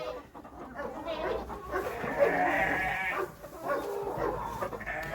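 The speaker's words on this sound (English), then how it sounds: "Wait, who let the goats and sheep out?" Goats and sheep bleat together on a farm, with several overlapping, wavering calls at moderate distance through a few seconds of outdoor ambience.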